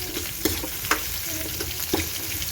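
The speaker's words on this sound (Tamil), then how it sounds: "அது கூட 2 பச்சை மிளகாயும் சேர்த்து நல்லா வதக்கி விட்டுக்கலாம்" Onion and two green chilies sauté in a hot pan for an egg curry, giving a steady close sizzle broken by a few sharp spoon-stirring clinks, with no talking.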